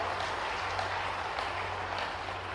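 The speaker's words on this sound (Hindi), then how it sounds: "हमारे सारे सैनिकों को, पुलिस के जवानों और स्वास्थ्य कर्मियों के लिए जोरदार ताली बजाए" Steady clapping from a crowd at a public ceremony in Jabalpur honouring meritorious students, heard as a continuous distant wash of applause over a low hum, moderately faint.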